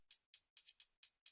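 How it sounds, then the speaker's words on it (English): A Boominati hi-hat loop from a hip-hop beat plays alone, six crisp, bright ticks in a steady, slightly swung rhythm, each with a short sizzling decay. "Then we have this hi-hat loop where we're using the Boominati hi-hat."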